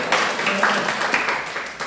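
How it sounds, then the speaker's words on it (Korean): Church congregation giving a round of thankful applause after a prayer, a steady wash of many hands clapping at moderate loudness, continuous for the whole stretch with no talk over it. "우리 하나님께만 감사 박수하겠습니다."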